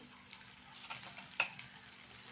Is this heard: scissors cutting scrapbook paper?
no